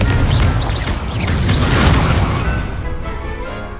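A Confringo explosion spell cast in the Hogwarts Legacy wizard duel: a loud, sustained blast with a heavy low rumble and crackling burst that fades out after a few seconds, with no talking.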